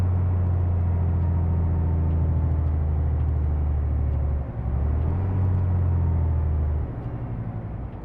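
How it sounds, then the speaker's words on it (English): A modded truck in Euro Truck Simulator 2 rumbles with a deep, steady engine drone, briefly dipping and shifting pitch midway, close and loud with no talk. "The main reason why I sort of lost interest in this truck was because the engine didn't sound all that great"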